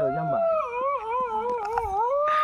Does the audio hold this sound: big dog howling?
yes